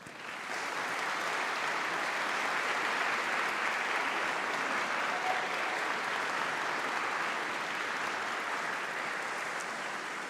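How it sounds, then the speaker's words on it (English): A graduation audience stands and applauds, a broad, sustained roar of many hands clapping that holds steady and full for about ten seconds in a large hall. "Please stand up and give them a round of applause."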